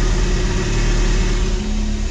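A car engine revs loudly and steadily up close, its raspy, blatty drone from an exhaust punctured on a speed bump.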